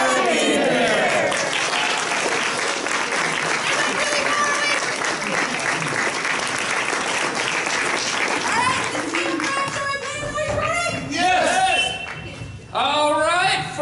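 An improv comedy audience at a Phoenix fan festival breaks into loud, sustained applause with cheers and shouts calling performers back to the stage, thinning toward the end as voices take over.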